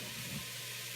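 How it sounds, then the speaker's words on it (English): Ground beef crumbles and onions fry in a pan for egg roll soup, giving a steady, close sizzle for a single brief second. "now I've got my beef crumbles and my onions going in here"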